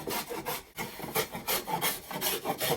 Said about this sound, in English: A nice chamfer on here. And I'm going to fix that with my wood rasp.